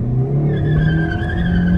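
A tuned Chevrolet Beat hatchback accelerates hard from standstill, its engine note climbing steadily in pitch over a short burst, loud and close, with no voices.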